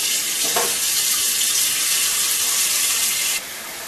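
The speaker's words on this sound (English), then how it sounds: "fill a pot full of water." Tap water runs steadily into a cooking pot, a constant hissing splash that drops in level near the end.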